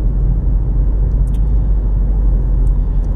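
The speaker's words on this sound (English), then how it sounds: "this Ford Focus I've been driving for" Steady low road rumble of a Ford Focus driving on a road in Farmington Hills, Michigan, heard from inside the cabin, continuous and fairly loud with no talking.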